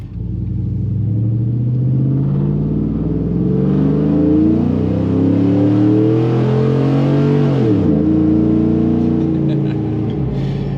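A lifted truck with a chopped cam is floored at full throttle, its engine roaring loud and close as revs climb steadily, dip sharply at a gear shift near the eighth second, then build again.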